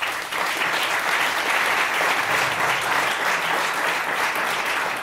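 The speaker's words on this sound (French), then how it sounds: "Merci d'être là, on peut l'applaudir" A ceremony audience in Lausanne bursts into steady, dense applause, many hands clapping together at an even, loud level for the full stretch, with no voices rising above it.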